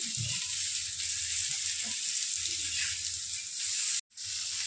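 Bitter gourd sabzi cooking on a flat iron tawa over a low gas flame, giving a steady, soft sizzle and hiss with a few faint stirring touches and one brief dropout near the end.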